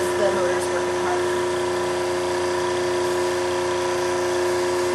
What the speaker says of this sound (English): Notice the sound of the motor might become louder, and this is an indicator that your flow is starting to increase as the motor is working harder